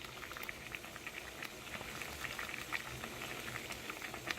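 Water boils hard in a pot holding a PSA graded card slab, with dense rapid bubbling and crackling pops at a steady close level and no talking.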